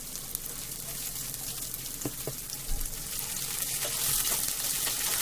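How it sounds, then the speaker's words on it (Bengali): Chopped onions frying in hot oil in a pan give a steady, close sizzling hiss that grows louder toward the end, with no talking. "প্রথমেই একটি পাত্রে তেল গরম করে পেঁয়াজ কুচি ভেজে নিতে হবে।"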